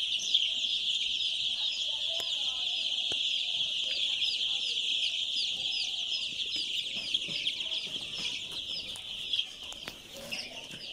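Weak, underweight Sonali chicken chicks on a poultry farm keep up a steady high-pitched chorus of peeping and cheeping, with faint scattered clucks, soft wing flutters and light rustling throughout.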